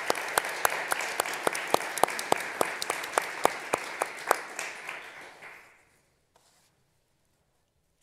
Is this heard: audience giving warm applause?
yes